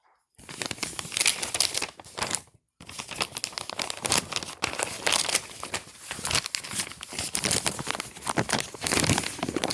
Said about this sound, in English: Turning the page here.